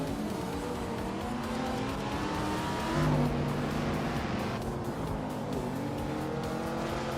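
Race cars roar through a video game race, engines droning steadily with rising and shifting pitch as cars jostle and overtake, a continuous loud mechanical whine throughout.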